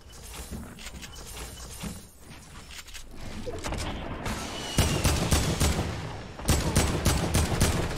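Video game gunfire, with bursts of sharp shots that grow louder and denser partway through, rapid volleys cracking in clusters over a steady background mix.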